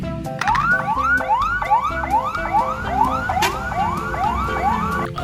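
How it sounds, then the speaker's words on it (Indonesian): Toy ambulance siren, a close, loud electronic wail repeating in rapid rising sweeps with a steady rhythm, alone without talk. "Wow, rupanya mobil ambulans."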